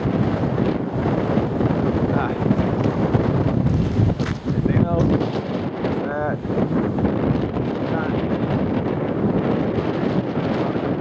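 Strong wind in a California high desert windstorm buffets the microphone in a constant roar, with a few short spoken words heard faintly beneath it.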